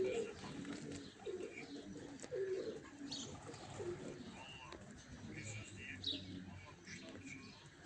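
Racing pigeons around a rooftop loft during a race flight coo softly and chirp now and then at middle distance, with someone talking quietly and a faint outdoor background.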